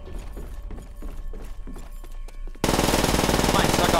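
Rapid automatic gunfire in Call of Duty: World at War bursts in partway through as a loud, dense rattle, after quieter game sounds and scattered clicks and thuds.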